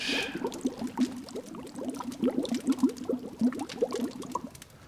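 Opened canned peaches cooking in The Long Dark, with steady close bubbling and simmering, many small liquid pops and gurgles running throughout, no voices.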